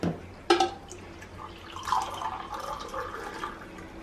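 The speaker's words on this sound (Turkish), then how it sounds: "2 bardak ılık su koyacağım ama bu suyun sıcaklığını bir kontrol etmem lazım" Two glasses of lukewarm water pour into a bowl for a dough. A sharp splash starts the pour, followed by a softer, uneven trickle and dripping, close and fairly quiet.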